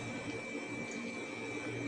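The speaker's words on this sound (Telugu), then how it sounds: "ఇప్పుడైతే వాటర్ వేసుకోవాలి" Water poured into a pot of chicken curry during home cooking, heard as a steady, continuous splashing wash close by, with no talking.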